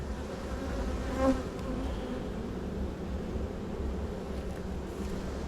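Honeybees buzzing around an open hive during an inspection as frames are moved, a dense, steady drone close by that holds for several seconds, with one brief louder buzz as a bee passes near.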